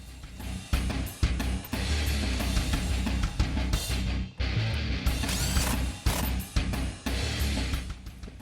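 Ratchet clicking in repeated bursts while the steering wheel bolt is tightened on a 2015-2017 Mustang with a black leather perforated wheel, loud and close with brief pauses between strokes.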